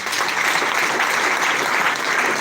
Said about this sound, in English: Give this meeting a big round of applause.